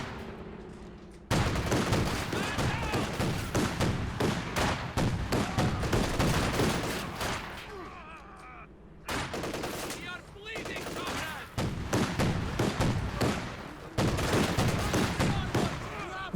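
Rapid bursts of automatic anti-aircraft cannon fire from a Flak Panzer in the strategy game Company of Heroes 2, loud and sustained in long volleys separated by short pauses.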